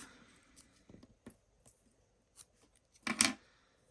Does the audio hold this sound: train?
no